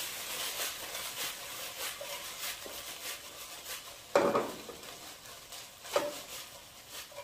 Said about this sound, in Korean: 부추의 흰 부분을 먼저 넣고 볶아주세요